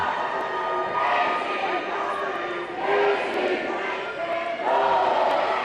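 A fired-up crowd at a junior girls' volleyball city final, tied late in the first set, cheers and yells in surging waves, loud and close, with shouting voices rising and falling throughout.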